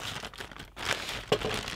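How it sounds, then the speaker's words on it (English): Crinkling and tearing of packaging as a mail package is cut open with scissors, close and brief, with a sharp rip near the end. "open that up."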